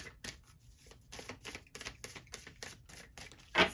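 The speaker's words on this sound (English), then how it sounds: "Spirit is making me do a workout here with the shuffling." Tarot cards are shuffled by hand in a series of quick, crisp riffling bursts and slaps, close and moderately quiet, with short pauses between them and a sharper flurry at the end.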